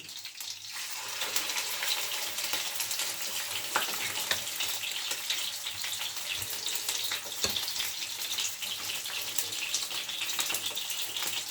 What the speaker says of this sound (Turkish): Kızartma işlemine başlıyoruz.